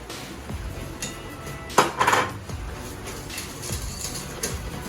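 Custard cake batter with milk being mixed in a bowl produces clinking and scraping of a utensil against the bowl, with one louder clatter in the middle and lighter taps around it.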